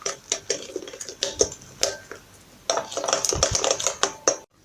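A utensil clinks and scrapes against a bowl in quick irregular strokes while cake batter with grated lemon and zest is mixed, close and alone without talk.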